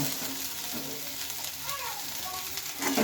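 Onion stalks fry in oil in a pan with a close, steady crackling sizzle that continues without pause for a few seconds.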